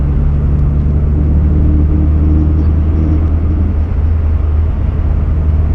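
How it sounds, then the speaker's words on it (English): Low droning engine and road rumble from inside a moving 1990 VW Corrado G60, steady and loud, with its exhaust rattling faintly beneath the hum. "that exhaust drives me a little nuts, hearing that rattling"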